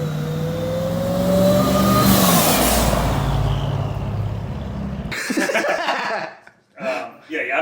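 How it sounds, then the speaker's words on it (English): A twin turbo Hellcat-powered Ram TRX truck accelerates with a rising engine roar and turbo whine for about five seconds, then cuts to sharp hissing bursts of wastegate and blow-off valve release, loud and close. "You hear the wastegates, you hear the turbo spool, you hear the blow-off valve."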